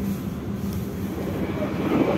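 Manahan executive train pulling out of Kutoarjo station, a steady low rumble and drone holding evenly throughout without much variation.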